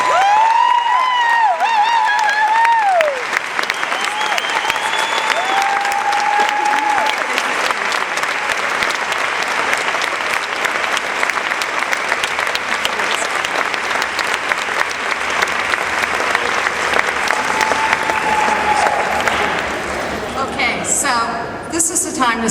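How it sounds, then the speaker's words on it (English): Warm, sustained applause with some cheering from an audience for a national president's farewell, with voices calling out over the start before the clapping continues steadily and fades near the end. "let's give Lorie Burch a round of applause"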